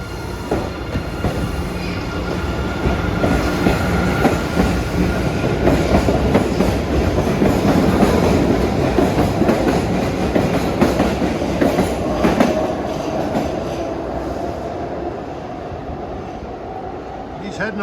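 A Boston MBTA Blue Line subway train runs near Aquarium station, a loud, continuous rumble with wheel clatter and faint squeal that holds steady, then eases slightly toward the end.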